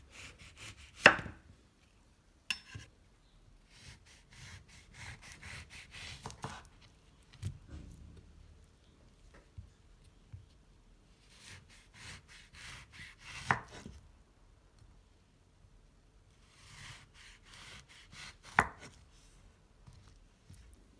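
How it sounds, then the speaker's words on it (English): A knife slicing an orange into thin slices on a board, with repeated soft cuts and scrapes coming in bursts between pauses, plus a few sharper taps of the blade, close and quiet. "use a knife to cut the orange into thin slices"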